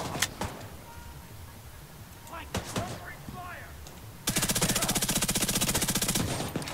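Sustained rapid automatic fire from an LVOAC rifle in the shooter game The Division 2, a loud dense burst taking over after several sparser shots and game noises, with voices talking earlier.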